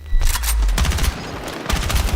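Heavy, dense gunfire from the shooter game Battlefield 6, loud overlapping bursts and booming shots that roll on nearly continuously, easing briefly before another flurry of shots resumes.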